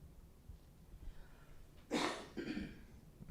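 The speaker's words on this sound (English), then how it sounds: "It's not COVID, it's just smoker's cough" A faint, quiet background gives way to a short, rough smoker's cough, followed by a second, softer cough shortly after.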